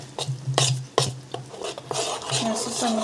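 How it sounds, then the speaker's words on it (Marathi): A spoon stirs and scrapes through coconut chutney in a steel pot, with repeated rasping strokes and clinks of metal against the vessel, close and fairly loud. "व्यवस्थित मिक्स करून घेऊया"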